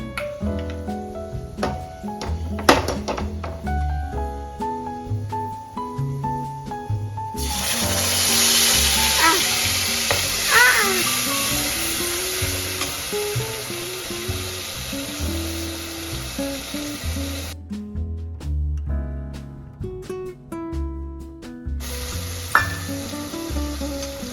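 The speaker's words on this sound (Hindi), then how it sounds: "तो इसमें मैं हींग डाल देती हूँ और मेथी का तड़का लगाऊंगी।" Asafoetida and fenugreek seeds crackle and sizzle in hot oil for a tempering, a continuous hiss with stirring and utensil clinks, background music running underneath throughout.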